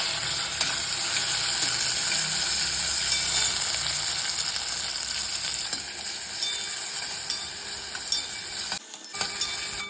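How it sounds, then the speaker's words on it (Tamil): Sliced onions sizzle and fry steadily in a pan for biryani, a continuous close hiss with faint clinks of stirring near the end. "இதை வதக்கி நல்லா ப்ரௌனிஷாக ஆக்கி எடுத்துடணும்"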